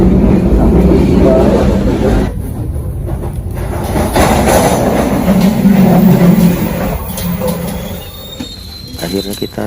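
The KA Malabar economy premium passenger train rolls on rails in Indonesia, heard from inside as a loud continuous rumble with wheel squeals and rattling carriage noise, faint voices mixed in.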